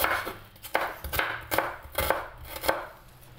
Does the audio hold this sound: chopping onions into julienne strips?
yes